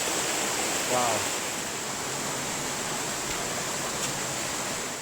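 A waterfall in Bunyip State Park, Australia, roars as a loud, steady wash of broadband rushing water filling the whole clip, with one brief spoken exclamation near the start.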